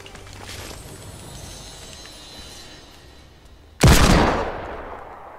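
A single loud, sharp shot from a new weapon in Fortnite Battle Royale rings out near the end, decaying quickly after a stretch of quiet background game ambience.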